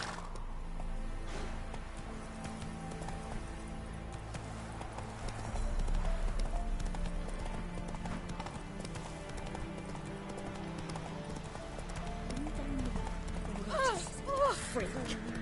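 Horse hooves clip-clopping at a steady gallop in The Witcher 3, a continuous rhythmic beat under game music and ambience, with a brief voice and a few sharp sounds near the end.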